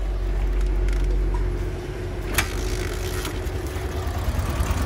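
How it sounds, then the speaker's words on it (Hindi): A loader vehicle's engine, just kick-started after a piston ring replacement, idles steadily nearby with a low, even rumble and a few light ticks and knocks, with no talking. "हल्के पांव से और एक ही किक में स्टार्ट कर दी भाई आपने यार"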